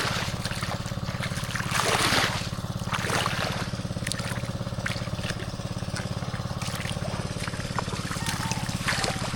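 A weak flow of water trickles at a small farm, a thin, continuous gurgle running under a steady mechanical hum, with a few brief louder splashes along the way.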